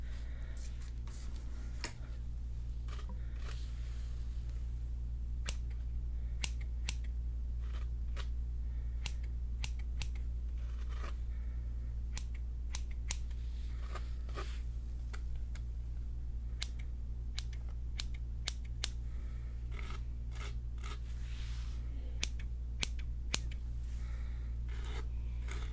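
Scissors snip hair during a close-up ASMR haircut roleplay, giving crisp, quiet, irregular snips, sometimes in quick runs, over a steady low hum.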